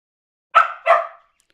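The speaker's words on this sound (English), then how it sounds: "What's with the woofing?" Two quick barks from one of three dogs squabbling over two toys indoors, a sharp yap followed a beat later by a second, fairly close and clear against silence.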